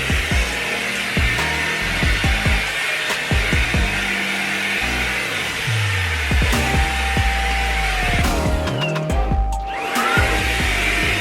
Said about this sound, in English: what kind of hand vacuum is she using?